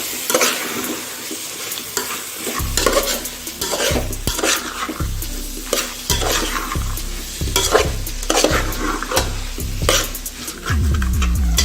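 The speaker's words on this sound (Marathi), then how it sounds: "छान परतून घेतला की छान वास येतो" Vegetables with cauliflower and masala for veg biryani stir-fried in a pan, a spatula scraping and clanking in a steady repeated rhythm over a constant loud sizzle, close up with no talk.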